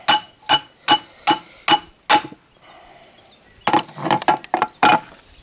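Metal-on-metal hammer taps drive a bearing out of a Kubota RCK32 60-inch mower deck spindle held in a vise, six sharp evenly spaced clinks, a pause, then a quicker burst of strikes, close and alone.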